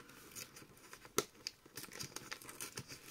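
A paper mail envelope being torn and opened by hand, close and quiet, with a series of short crinkling rips and rustles, sharper tearing bursts scattered through.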